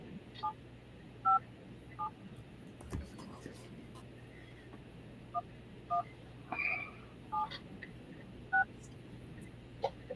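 Telephone keypad tones beep in short, scattered single presses over a steady low hum in a quiet room, faint and irregular across several seconds.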